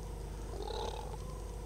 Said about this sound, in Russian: Мурлыкают, мурлыкают.